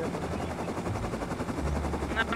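Rapid bursts of automatic gunfire in the game Rust, dense and crackling at moderate distance, with a low helicopter-like thrum underneath.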